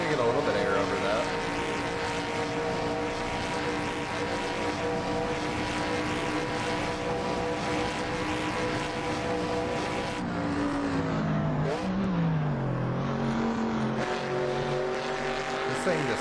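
Exhaust from a Shelby Daytona racing the Isle of Man TT course blares loud and close, a dense harmonic drone that dips and swoops in pitch partway through before climbing back up.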